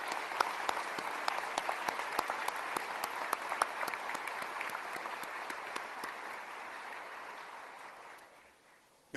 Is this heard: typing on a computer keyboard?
no